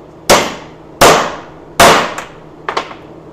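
A hammer strikes a crimping tool three times at steady intervals, pressing a lug onto a battery cable. Each whack is loud, sharp and close. Fainter metallic taps follow the last blow.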